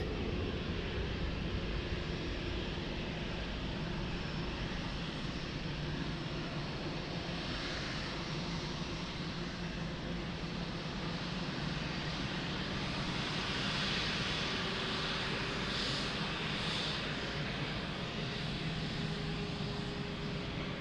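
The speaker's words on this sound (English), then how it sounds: "United Airlines 65, last captain's flight." A United Airlines airliner at Lisbon Airport gives a steady, continuous engine roar that holds at an even level throughout, a broad wash of jet noise heard from a moderate distance with no talk over it.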